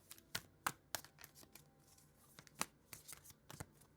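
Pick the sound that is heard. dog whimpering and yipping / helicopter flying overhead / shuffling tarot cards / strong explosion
shuffling tarot cards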